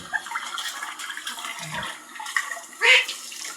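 Water runs and splashes into a basin as small pet animals are bathed on a hot day, a soft steady trickle with a brief louder gush near the end, no talk.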